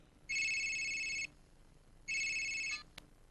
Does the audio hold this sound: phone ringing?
yes